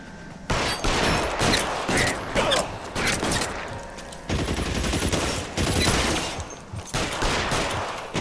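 Sustained gunfire in the crime game L.A. Noire, dense overlapping rifle and pistol shots in rapid bursts, loud and close, continuing almost without pause through a shootout.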